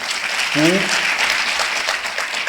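Audience applause at a formal ceremony, a continuous patter of many hands clapping at moderate level, with a short voice cutting in early.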